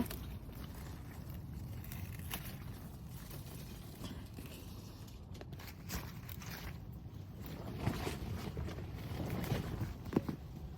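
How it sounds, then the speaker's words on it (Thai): Strong wind blows across an outdoor garden before snowfall, a constant loud rushing and buffeting that stays close throughout and swells near the end. "ลมแรงมากนะคะ"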